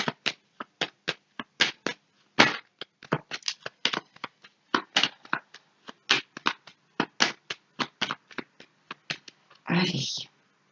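Tarot cards are shuffled by hand in quick, close, crisp riffles and taps that repeat irregularly. A short bridge-like flutter comes near the end.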